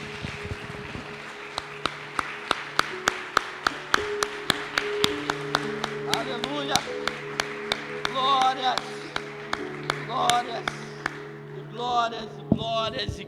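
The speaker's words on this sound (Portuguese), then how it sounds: "Que possamos dar uma salva de palmas ao Senhor Jesus nesta noite." A church congregation claps for Jesus at an evening service, sharp rhythmic hand claps keeping a steady beat over sustained music, with voices rising now and then in the background.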